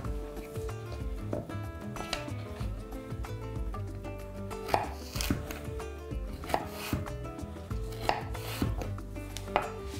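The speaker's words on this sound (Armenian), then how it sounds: "Կտրատելու ենք մանր խորանարդիկների" Knife chopping a medium carrot into small cubes on a board for smoked chicken spring rolls, steady rapid taps with sharper knocks, close and alone over a faint musical hum.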